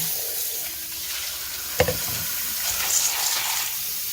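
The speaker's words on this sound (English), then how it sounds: "I'm going to pour this water into my colander and the beans." Water with pinto beans is poured into a colander in a kitchen, giving a soft, steady splashing and trickling with one brief sharp clatter near the middle.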